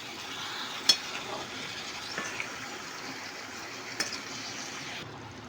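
Boiled, drained soybean chunks stirred into cooking soybean Manchurian in a pan, a soft continuous sizzle with scraping stirs and a few sharp clinks of the utensil against the pan.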